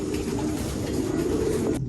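Pigeons cooing steadily inside a racing pigeon loft, soft throaty coos layered close together and continuous for about two seconds before cutting off abruptly.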